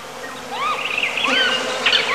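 Bees buzzing around a yellow palm inflorescence, several fluctuating insect hums weaving close and faint over a low steady background, with no one speaking.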